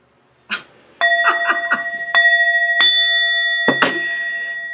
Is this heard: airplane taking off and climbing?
no